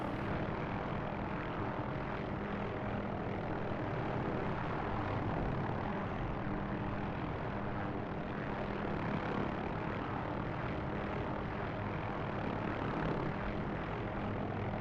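Steady, loud rotor and engine drone of a helicopter in the DCS flight simulator game runs without a break throughout, a dense continuous roar with no voices.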